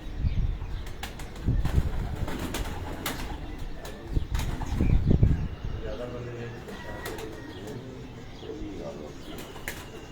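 Pigeons are flushed off a rooftop in a flurry of flapping wings, with soft cooing around them and people talking nearby.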